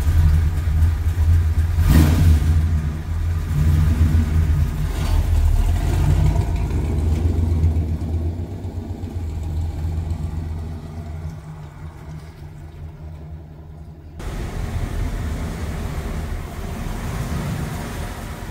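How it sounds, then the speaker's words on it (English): A 1964 Plymouth Fury engine rumbles nearby as the car is driven and revved, then settles to a steady idle, with the sound cutting briefly before resuming. "I'm going to move the car over to the lube side"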